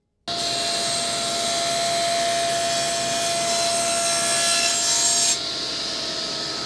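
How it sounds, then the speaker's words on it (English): Continuous hand sawing through wood to cut the tops off small box pieces, a steady rasping stroke close and loud throughout, with no talk. "now I want to cut the top off"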